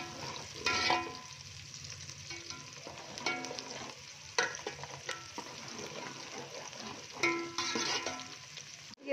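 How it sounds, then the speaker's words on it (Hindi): Onions browning in ghee in a karahi, sizzling and crackling while being stirred, with bursts of scraping and spitting at irregular intervals over a steady frying hiss. "ये मैंने घी ऐड कर लिया है, ठीक है, प्याज में, और हम इसको ब्राउन करेंगे।"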